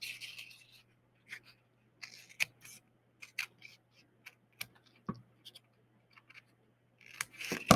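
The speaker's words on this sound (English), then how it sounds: "you're gonna probably have to use the tips of your scissors" Scissor tips snip through a cardboard egg carton in short, sharp crisp cuts, irregularly spaced with pauses between them, close and fairly quiet, ending in a slightly longer run of cutting.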